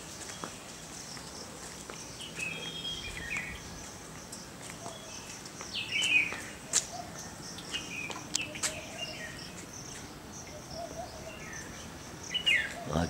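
An Asian koel calls in Gitanjali garden amid outdoor ambience, with short, sharp bird chirps repeating at intervals over a constant hiss of insects and background noise, fairly distant and moderately quiet.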